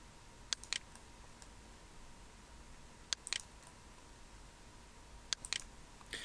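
Quiet, sharp computer mouse clicks come in three small clusters spaced a few seconds apart, as parts are copied in Autoflex CAD software, over a faint room hiss.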